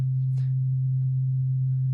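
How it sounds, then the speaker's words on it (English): A pure single-frequency sine tone holds steady and loud for two seconds, unchanging in pitch, with only faint stray noises over it. "If I play a note at a single frequency,"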